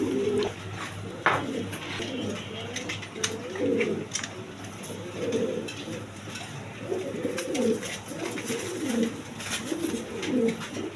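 A male and a female Spanish pouter pigeon coo nearby in repeated low, throaty phrases spaced through the stretch, over a faint steady hum with occasional light clicks.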